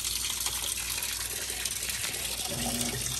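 A Whirlpool stacked washer washes shop rags, water sloshing and gushing steadily inside the drum, close and continuous, with a low hum toward the end.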